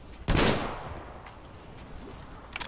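A single sharp gunshot cracks near the start in Metro Exodus, fired at nafta, followed by a decaying rumble and a few faint, small clicks and knocks.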